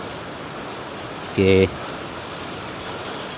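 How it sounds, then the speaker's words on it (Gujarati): Heavy evening rain pours steadily in South Bopal, Ahmedabad, making a dense, even hiss of rain striking surfaces nearby. A brief spoken word cuts in once. "સાંજે પડી ગઈ છે અને વરસાદનું જોર ધીમે ધીમે વધી રહ્યું છે."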